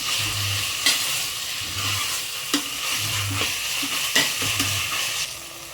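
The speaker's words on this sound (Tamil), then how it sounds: "புதினா தழை அதில் வந்து பாதியை வந்து இப்போ சேர்த்துக்குங்க சேர்த்து ஒன்றா சேர்த்து எல்லாம் தக்காளியோடு வதங்கட்டும்" Mint leaves stir-fried with tomatoes in a pan for paneer biryani, a steady close sizzle broken by repeated spatula scrapes and soft knocks against the pan at a slow, regular rhythm, with no voices.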